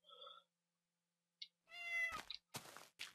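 In Minecraft with the Mo' Creatures mod, a game cat gives a short meow, then after a pause a longer drawn-out meow and a few more clipped cat calls, separated by silence and sounding close and clear.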